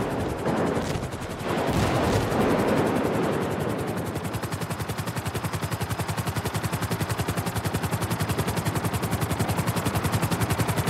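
Helicopter flying overhead in a video game, its rotor thumping in a fast, steady, even beat that settles into a constant loud chop after a few seconds of rushing noise at the start.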